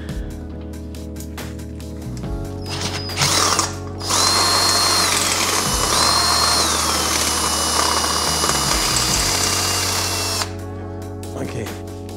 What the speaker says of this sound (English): we're just going to use the 8mm drill bit right now